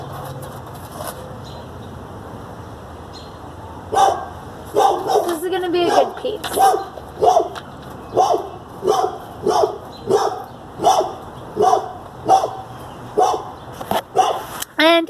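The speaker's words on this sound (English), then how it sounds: "If you hear the dog barking" A dog barks repeatedly in a steady rhythm, close and loud, with a person talking briefly beforehand.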